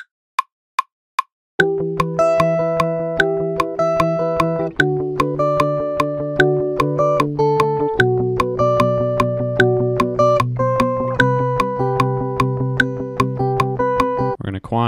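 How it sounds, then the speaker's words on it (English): An electric guitar plays a chord melody on the top three strings for a rock loop, with a few clicks before a steady run of clean plucked chords in even rhythm, close and clear. "add some sort of chord melody using only the top three strings"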